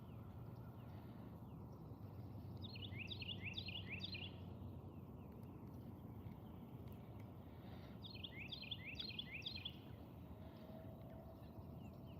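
Songbird by a backyard pond calling in two short bursts of rapid, high chirping notes, fairly distant, over a steady outdoor background hum.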